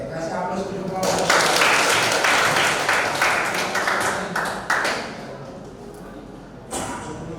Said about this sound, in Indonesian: Oke, kasih aplaus dulu kelompok.